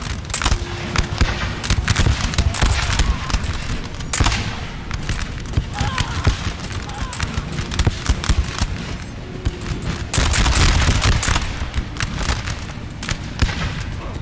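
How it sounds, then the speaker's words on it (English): Musket volleys from massed infantry in Napoleon Total War roll out as a continuous barrage of cracks and booms, with loud bursts recurring across the scene under a dense battlefield din. "But when they fire, it's an impressive volley."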